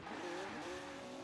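Cars race in Forza Horizon 4, and the game's engines whine through rising and falling revs. The sound is faint and continuous, with a tonal engine note shifting pitch across the brief stretch and no one talking.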